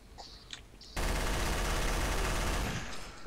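Rapid automatic gunfire in the video game Trouble in Terrorist Town, a sudden sustained burst of dense shots that starts abruptly after a quiet moment and runs for a couple of seconds, loud and alone with no talking.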